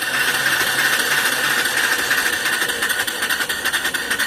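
Small steam engine turning at about 250 to 300 RPM drives an alternator spinning near 1,000 RPM, a loud steady mechanical whir with a constant tone and faint rhythmic chuffing pulses emerging toward the end.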